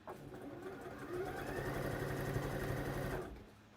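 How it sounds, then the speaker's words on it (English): A sewing machine stitching a wrap dress whirs steadily for about two seconds, a soft continuous motor hum with rapid needle rhythm, faint and alone, starting and stopping cleanly. "I'm quite enjoying this sewing that I'm doing here."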